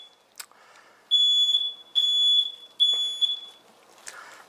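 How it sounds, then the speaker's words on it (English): An apartment smoke detector goes off while someone cooks elk bacon burgers, sounding three loud, shrill electronic beeps in an even rhythm, with faint kitchen clatter between them. "Silly fire alarm."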